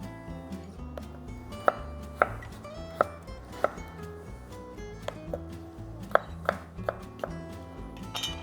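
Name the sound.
slicing potatoes on chopping board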